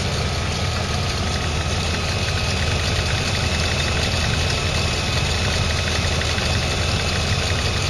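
A 1999 Chevy S10 engine runs steadily nearby, a continuous loud mechanical drone with a faint knocking texture, no voices over it.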